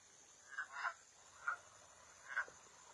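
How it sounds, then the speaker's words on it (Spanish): Frogs croak at night in a quiet outdoor spot, four short throaty calls in loose succession, two closely paired and then two spaced apart, fairly near over a faint steady background hum. "Es una rana preciosa."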